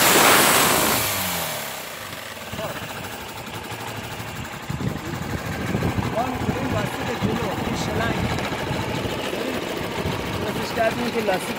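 A motorcycle engine revved with the throttle held open to build compression, steady and fairly loud, with a voice talking over it.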